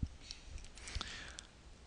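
A computer mouse gives a few faint, sharp clicks, spaced apart against a quiet room background.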